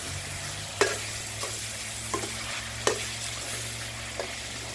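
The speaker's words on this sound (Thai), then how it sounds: "แล้วก็คนได้เลย" A spicy catfish stir-fry is stirred in a pan, with a steady low sizzle under several sharp scrapes of the spatula spaced about a second apart, close and fairly quiet.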